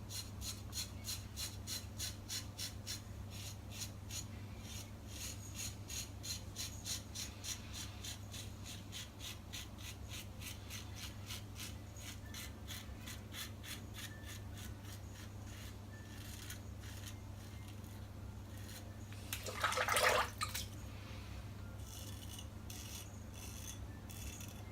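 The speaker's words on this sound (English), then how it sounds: "Very, very smooth, comfortable shave all the same." Razor shaving on cold skin with a Phoenix and Beau Denali soap and a Gem Clog Pruf safety razor, giving a steady soft scraping with rhythmic strokes, close and alone, with a louder brief rasp near the end.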